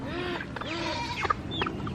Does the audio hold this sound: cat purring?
no